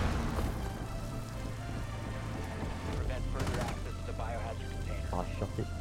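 Gunfire in the tactical shooter Rainbow Six Siege, a few sharp shots among crackling game noise during a ranked match, with players talking over it.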